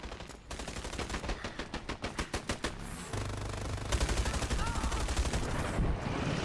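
Video game gunfire with shotgun blasts, a rapid rattling burst of automatic shots followed by a dense, continuous barrage of firing and explosions, loud and close.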